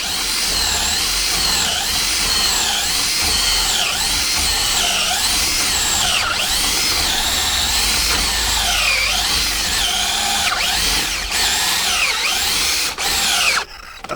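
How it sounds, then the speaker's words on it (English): A power drill whines continuously into hard oak, its pitch rising and falling as it bites and eases, loud and close with no talking. "Thing is with oak, you have to keep pulling your drilling out to keep it clear"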